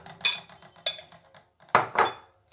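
A metal baking tray for fish is set down and handled, producing four sharp metallic clanks in two pairs, close and fairly loud, with short ringing tails and quiet gaps between.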